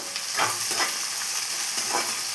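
Fenugreek powder being stirred into gongura (sorrel leaf) curry with garlic in a hot pan, a soft steady frying sizzle with a few scraping stir strokes, close and alone.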